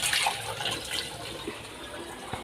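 Water rushing steadily through an iron filter being flushed clean, a continuous close hiss and gush with slight surges, fading near the end.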